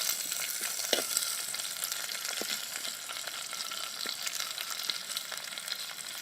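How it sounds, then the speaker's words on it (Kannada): Mustard seeds splutter in hot oil while a tempering is made for kokum rasam: a continuous crackling hiss dotted with scattered sharp pops, close and without voices. "ನೋಡಿ ಫ್ರೆಂಡ್ಸ್, ಸಾಸಿವೆ ಚಟಪಟ ಅಂತ ಸಿಡಿತಾ ಉಂಟು"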